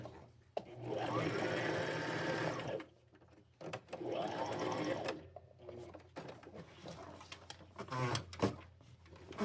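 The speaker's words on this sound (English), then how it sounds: "And then I am fixing to sew this down first." A sewing machine stitches appliques onto a pair of bib overalls, running in two long steady bursts with a pause between, then shorter stop-start runs with handling clatter, close and fairly loud.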